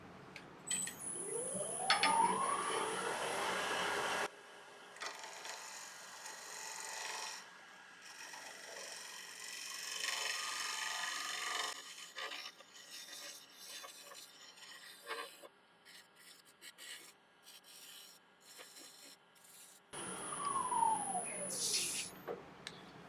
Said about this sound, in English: that was just a little spear point scraper, which done a really nice job cleaning that up